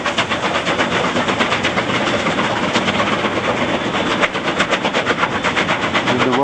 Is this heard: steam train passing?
yes